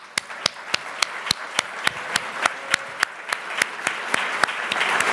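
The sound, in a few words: audience applauding the Forum A&M team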